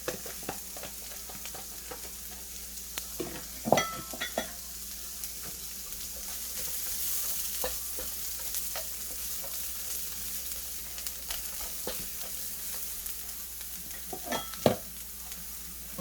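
Carrots stir-fried in a hot pan for chicken fried rice give a steady, close sizzle, broken by occasional sharp clanks and scrapes of the spatula, with no talking.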